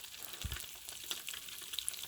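Small crappie fry in hot grease at an outdoor cookout, a faint, steady crackling sizzle with a couple of brief knocks near the start.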